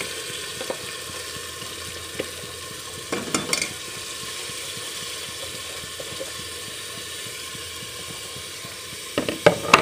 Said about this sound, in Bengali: এখন দিয়ে দিব চাউল। চাউলটা একটু ভেজে নেব।